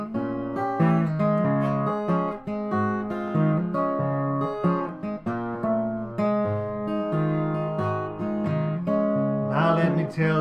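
An acoustic guitar is fingerpicked in a ragtime blues style, playing part of a song with a bouncing alternating bass and syncopated treble melody, close and clear with no voice.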